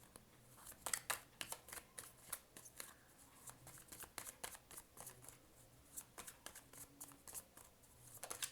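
Tarot cards being shuffled at close range, a faint run of quick papery riffles and soft taps in an uneven rhythm, with no voice over it.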